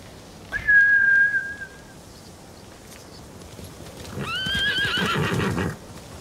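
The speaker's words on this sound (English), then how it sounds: "Bastards scared off the horses." Horses in the video game Ghost of Tsushima let out two loud whinnies, one early and a second longer one that follows after a pause, along with faint hoof clip-clop, heard alone without speech.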